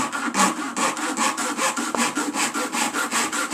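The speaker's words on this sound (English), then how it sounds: "the old tyre, just come in at it. As you can see, it just grates up quite easy." An old rubber tyre is grated with a rasp-like blade in a garage, producing steady rhythmic rasping strokes, about eleven evenly spaced back-and-forth scrapes, close and fairly loud with no talking.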